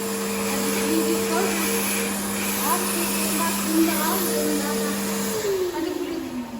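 A hand dryer in a shopping mall restroom runs with a loud, steady mechanical whir whose tone drops as it winds down at the end, while voices talk over it.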